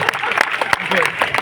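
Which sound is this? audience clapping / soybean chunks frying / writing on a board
audience clapping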